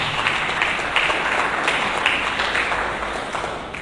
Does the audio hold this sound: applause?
yes